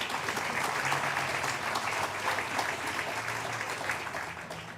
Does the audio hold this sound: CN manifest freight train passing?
no